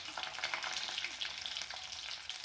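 Garlic cloves, cumin and curry leaves fry in hot oil for a tadka, giving a loud, dense, continuous sizzle with crackling pops up close.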